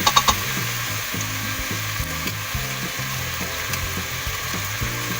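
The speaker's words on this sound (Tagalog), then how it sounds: "It's just like cooking the chicken by its own oil." Chicken cooking in its own rendered oil for ginger chicken adobo sizzles loudly and steadily, with a few clinks at the start and repeated soft scraping and stirring strokes against the pan.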